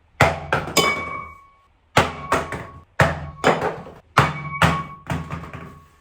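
A cheap 2,000-won Daiso plate is dropped again and again onto a bathroom floor with anti-slip matting, each impact a loud, ringing clatter with quick bounces, repeated in four distinct bursts separated by brief silences.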